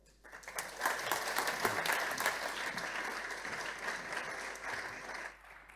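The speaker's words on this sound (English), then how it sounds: "may I please ask you for a warm round of applause for Mr. Paul-Bernhard Kallen" Conference audience applauding as a speaker, Paul-Bernhard Kallen, is welcomed onstage, a warm, dense round of clapping that rises quickly, holds steady for several seconds, then tapers off, heard slightly distant in a large hall.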